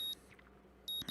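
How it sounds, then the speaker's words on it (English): Morning alarm clock in the visual novel Katawa Shoujo: short electronic beeps, one burst at the start and two more near the end, separated by a quiet gap. "And the morning alarm sounds and I roll over, switching off"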